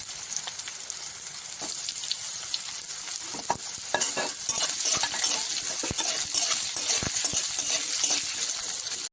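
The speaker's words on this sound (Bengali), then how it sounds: "এটা ভালো গরম হয়ে গেছে। এবার আমি লাউটা দিলাম।" Bottle gourd hits a hot pan and sizzles steadily, with frequent scraping and clinking of a spoon as it is stirred, close and continuous, with no talk.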